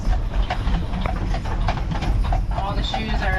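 Shod horse hooves clip-clop steadily on a hard surface at Greenfield Village, over a low background rumble, with faint voices mixed in.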